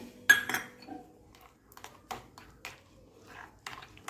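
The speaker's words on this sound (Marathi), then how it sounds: "हे केशराचं दूध आहे ते मिक्स करून घेऊया" A spoon clinks against a bowl while saffron milk is mixed into apple shrikhand, with a few sharp close taps and softer scraping strokes spread over a few seconds, no voices.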